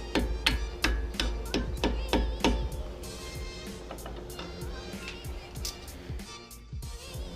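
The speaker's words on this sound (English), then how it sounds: "And this is where the ball peen hammer comes into play." Ball peen hammer tapping a greased pin into a metal bracket, about a dozen quick, sharp, evenly spaced strikes up close, then quieter handling noises.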